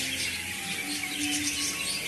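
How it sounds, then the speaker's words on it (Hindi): Small caged birds chirping and tweeting continuously in a large enclosure at a haveli in Jaipur, a dense, steady chorus of many overlapping calls close by, with no talking. "ये चिड़ियों की चहचहाट देखिए।"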